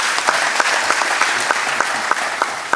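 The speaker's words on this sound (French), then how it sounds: "je voudrais qu'on l'applaudisse encore une fois très fort" A hall audience applauds the Prime Minister of Côte d'Ivoire at a family-themed ministerial event, with steady, dense clapping and some sharp individual claps standing out throughout.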